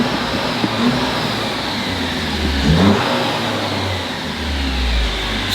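A Jeep Wrangler engine idles and revs inside a garage, a rough, rumbling exhaust swelling briefly in the middle and again near the end, close and loud with echoing room noise.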